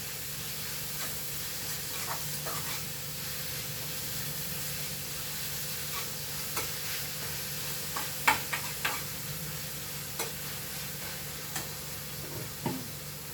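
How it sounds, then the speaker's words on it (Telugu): Carrot pieces frying in a pan for poha pulihora, a soft steady sizzle with scattered faint stirring clicks and scrapes, no talking. "క్యారెట్ బాగా ఎగేస్తుంది"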